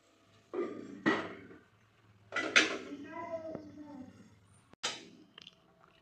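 A dirty cooking pot being scrubbed clean during matka biryani preparation, heard as a few separate bursts of scraping and clattering metal, close up, with short quiet gaps between them.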